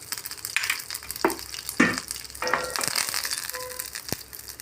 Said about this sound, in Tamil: சூடாயிருச்சு. கருவேப்பிலை போட்டுக்கலாம், பட்டை மிளகாய் போட்டுக்கலாம்